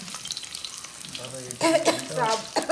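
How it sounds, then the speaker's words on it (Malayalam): Hot oil sizzling and crackling in a heavy pan, growing louder and busier partway through as green chillies are dropped in, with faint voices in the background. "ആദ്യം എണ്ണ ഉരുളിയിലൊഴിച്ച് തിളച്ചിട്ടുണ്ട് പച്ചമുളക് ഇട്ട് കൊടുക്കുന്നു"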